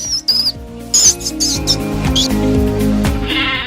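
High, thin squeaks like a rat's come in a few quick bursts over a children's alphabet song with steady music underneath.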